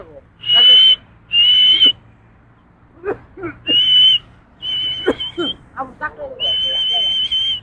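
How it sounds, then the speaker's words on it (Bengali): Someone blows a whistle to call pigeons back to the loft, sounding several sharp, high, sustained blasts separated by short gaps, with brief rustles and knocks between them. "হুইসেল মারেন হুইসেল মারেন"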